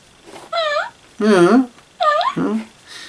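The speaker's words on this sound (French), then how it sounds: "vous entendez les bruits de Garfield quand il est tout petit" Four short electronic kitten meows from a Garfield toy cat, close and clear, each a rising-falling mewing tone separated by brief silences.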